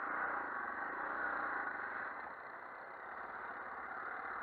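A Yamaha MT-03 motorcycle idles nearby during engine break-in, a steady muffled rumble with even pulsing that dips slightly in level partway through, no voices over it.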